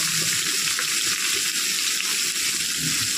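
Potatoes and ridge gourd frying in hot oil in a home kitchen, a steady, fairly quiet sizzle with a faint bubbling crackle running evenly throughout, no talking.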